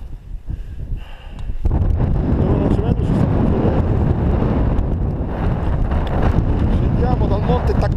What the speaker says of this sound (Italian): Bel vento.